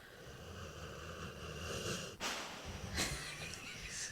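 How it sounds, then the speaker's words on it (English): Raspy, wheezing breaths repeat slowly and steadily, with a couple of sharper snorts near the end, like a dog snoring close by. "The snoring you'll hear."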